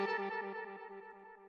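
A dry techno synth lead without vibrato or unison plays a bright, buzzy sustained note that pulses in a quick repeating rhythm and slowly fades, heard alone with no talking.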